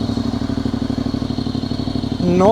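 A Honda NC750X fitted with a Black Widow 300mm exhaust idles in a steady, lumpy pulse close by. Near the end a rising revving note pushes it louder.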